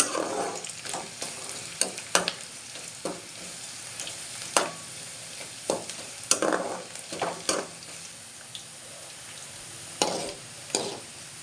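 Onions frying in a pan as they turn brown, a soft continuous sizzle broken by sharp scrapes and clacks of stirring at irregular intervals, close and fairly quiet with no talk.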